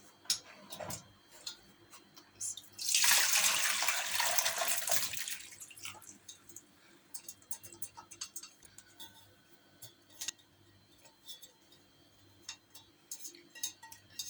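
Boiled purslane is tipped into a strainer, and the draining water gives a loud splashing rush for about three seconds. Quieter drips, taps and kitchen clatter follow, with no talking.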